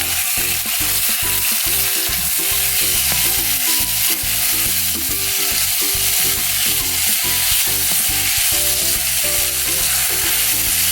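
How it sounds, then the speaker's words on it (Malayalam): Marinated chicken frying with vegetables for pasta, a loud dense sizzle with constant clattering of a spoon mixing through the pan. "ചിക്കൻ മാരിനേറ്റ് ചെയ്ത് വെച്ചത് അതിലേക്ക് ഇട്ട് കൊടുക്കാം. നന്നായി മിക്സ് ചെയ്യാം."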